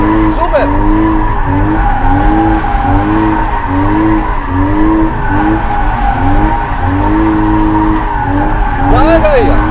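A car drifting around a cone on a first drift attempt, its tires squealing in repeated wavering arcs over a loud, close engine roar, with voices heard over the noise.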